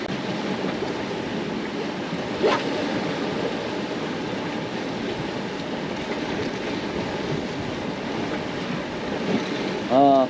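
Strong wind blows steadily at sea beside a squid-fishing boat, a constant roaring gust noise with faint water wash and a brief knock partway through.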